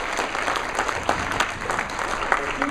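A conference audience at the ProductCamp Atlanta Fall 2010 closing gives steady, moderately loud applause that fills the room, with faint voices mixed underneath.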